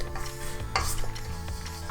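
Spatula scraping donut batter around a mixing bowl for donut balls made without yeast, a soft continuous scrape with a few sharper strokes against the bowl, close and steady with no talking.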